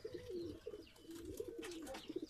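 Pigeons coo in a loft, soft repeated throaty calls rolling in a steady rhythm at close range, with faint rustling and scraping behind them and no voices.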